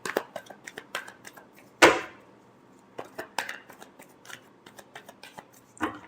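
Tarot cards shuffled in irregular soft flicks and snaps, with one sharper slap partway through, close and quiet with brief pauses.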